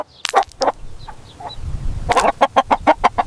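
Rooster in a cartoon fable, giving a few scattered clucks before breaking into a quick run of loud, evenly spaced clucks, close and without speech.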